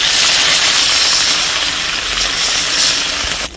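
Water poured into a hot frying pan of onions browning on a high flame, hissing in a loud, steady sizzle that holds through the whole stretch and eases slightly at the very end.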